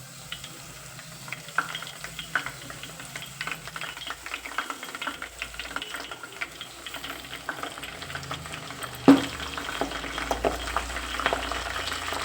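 Hibiscus flowers, hibiscus leaves and henna leaves fry in oil with a steady crackling sizzle and scattered pops, including one sharper burst near the end, all without talk.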